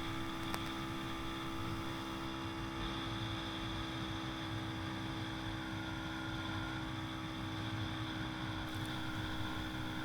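A TaoTao TBR7 motorcycle engine cruising on the highway, a steady droning hum with strong wind rush, constant and close throughout.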